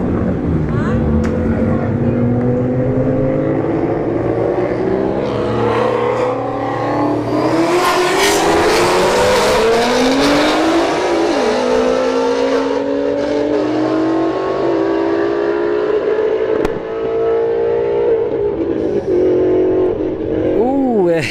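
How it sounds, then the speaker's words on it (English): A Nissan GTR and a Shelby GT350 launching side by side in a drag race at a motorsports park, their engines roaring loud and near, rising through the gears with wind buffeting, while a commentator talks over the noise. "Nissan GTR in the left lane, Shelby GT350 in the right lane."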